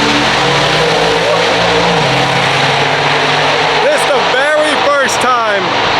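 A twin-turbo LS-swapped Dodge Charger R/T runs at speed on a track, its engine a loud, steady roar with rising and falling pitch through gear changes, under a speaking voice.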